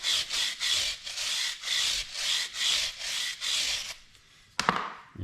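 A brush scrubs the chain of a 2015 Yamaha WR250R motorcycle with cleaner, about eight even back-and-forth rasping strokes close up, followed by a short pause and a sharp knock.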